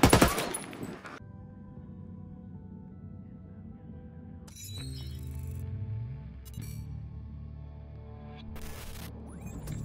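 Gunfire in the tactical shooter Ghost Recon Wildlands: a loud burst of sniper and automatic shots opens, followed by quieter ambience and further scattered shots later, close and sharp.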